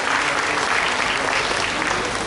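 A crowd claps in warm, dense applause to welcome a music team at a seniors' celebration event, a brief burst of many hands close and loud.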